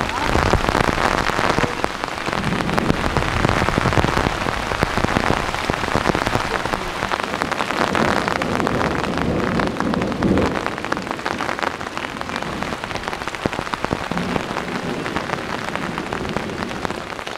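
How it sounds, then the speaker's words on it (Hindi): Heavy rain pounds a tent during group camping in a deep forest in a thunderstorm, a loud, dense, unbroken downpour drumming steadily for the whole stretch. "बहुत तेज बारिश होने लग गई।"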